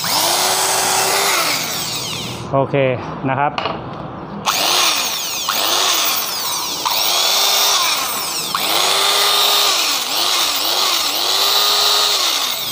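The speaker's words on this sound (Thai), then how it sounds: "ลองเจาะดูนะครับผม ทะลุเลยนะครับก็เจาะได้ใช้งานได้ตามปกติครับผม" An electric drill, newly repaired by rewinding its motor's field coil, runs loud and close, revving in repeated bursts as it drills through material, with someone speaking briefly between runs.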